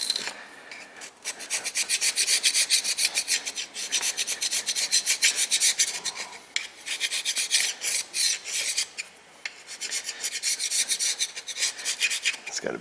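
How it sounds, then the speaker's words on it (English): A carbide scraper rasps steadily across the intake side of a Dodge Caravan / Chrysler Town & Country cylinder head, with continuous close scraping strokes and only a few short pauses. "Take the old super scraper, clean off the intake side of the head here."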